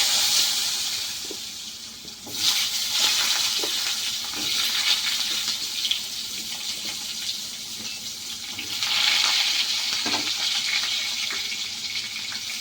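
Potatoes fry in hot oil with cumin seeds, giving a continuous loud sizzle that swells and ebbs as they are stirred, with occasional scraping knocks.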